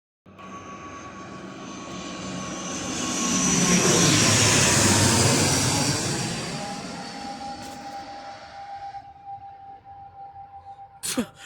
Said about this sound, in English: Oh, we've got another plane. Which one is it going to be next? Another ATR 72?